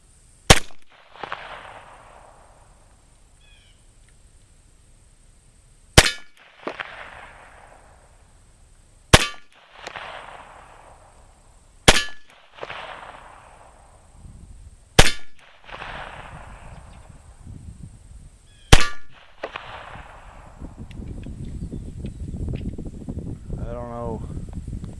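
Six sharp 9mm pistol shots fired outdoors with cast-bullet reloads (Lyman 356637 cast and Berry's 147 grain over CFE Pistol powder), spaced about three seconds apart, each a loud crack with a ringing tail, followed by rustling noise.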